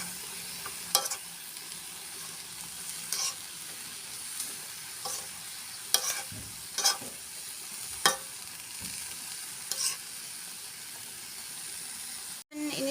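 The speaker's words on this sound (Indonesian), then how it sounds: "Saya masukkan tempenya. Saya aduk-aduk." Tempe and papaya pieces stirred in a hot frying pan, a steady sizzle broken by sharp scraping stir strokes every second or two, close and fairly quiet, with no talking.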